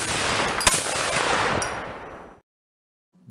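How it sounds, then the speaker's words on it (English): A cannon fires with a sharp bang, followed by a long, loud, broad roar of blast and rumble for about two seconds before cutting off abruptly into silence. "The cannon in that video, I'd love to shoot one of those."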